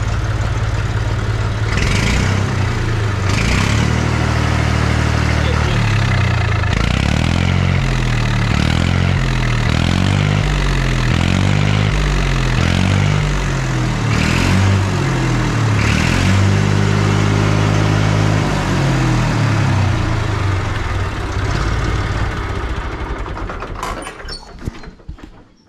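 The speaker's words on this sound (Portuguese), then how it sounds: "Olha o motorzinho desse trator" A restored 1964 Massey 50 tractor engine idles up close, a loud, steady low-pitched chugging with a rhythmic pulse that holds throughout before fading at the very end.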